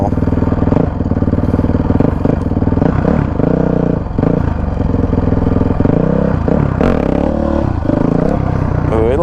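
A Honda CRF450X dirt bike revs hard and steadily close by during wheelie practice, its engine roaring loud throughout with brief throttle dips and clattering mechanical noise.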